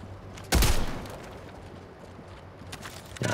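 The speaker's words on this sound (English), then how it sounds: "I just use the machine gun" Machine gun fire in Helldivers 2 gameplay: one loud, sharp burst near the start that decays into a rumbling tail over low background noise, then another burst rising at the end.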